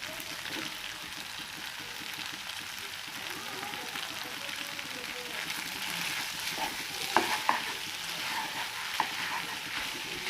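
Egg vegetable noodles frying with spices, vegetables, chopped tomato and coriander, a continuous moderate sizzle with a few sharp utensil clinks against the pan near the end.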